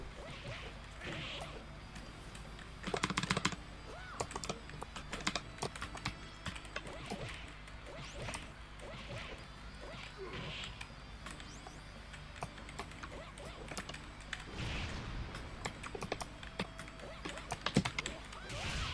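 Computer keyboard typed and struck hard during a PvP match in the Zone4 Extreme online game, giving dense, rapid clicks and clacks close by, with occasional heavier slaps on the keys.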